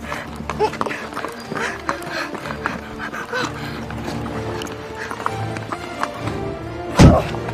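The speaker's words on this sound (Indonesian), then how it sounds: "Kuda." Horse hooves clip-clop along in an uneven rhythm under people talking and moving about, with a sharp louder knock near the end.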